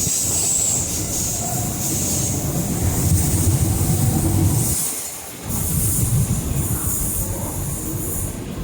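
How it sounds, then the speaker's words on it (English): An MTR East Rail Line train departs from the Kowloon platform, a steady loud rumble of wheels and rail with metallic squeal and clatter, a brief dip midway before the rolling noise resumes. "Please stand behind the yellow line as the train is about to leave."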